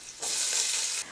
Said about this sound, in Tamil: எண்ணெய் சூடானதும் 1/2 கப்பு கேரட் சேர்த்துக்கலாமா.